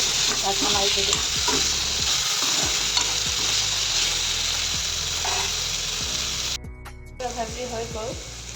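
Salted tomatoes frying in a pan and stirred, a loud close sizzle with repeated scraping strokes of a spatula, a brief gap near the end, a voice faintly present.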